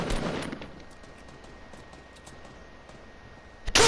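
Fortnite gunfire in a quick burst of shots at the start, then a faint pause and a louder shot right at the end.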